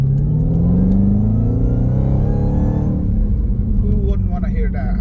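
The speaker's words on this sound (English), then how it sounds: "That's a V8." A Dodge V8 engine rumbles loudly and revs up, its deep growl rising and then settling into a steady idle close by, with someone talking over it.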